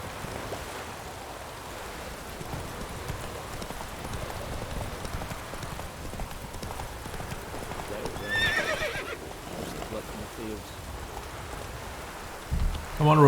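In The Witcher 3 video game, a horse trots up with clear clip-clop hoofbeats and whinnies over a steady bed of falling rain, fairly close, with a louder thump near the end.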